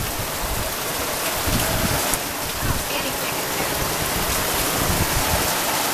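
Heavy rain pours steadily onto garden pots, a dense, constant hiss and patter of water close by for several seconds, with no voices.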